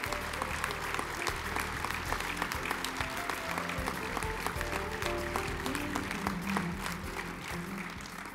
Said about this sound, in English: Please, a round of applause for our award winners and presidents of winners this year.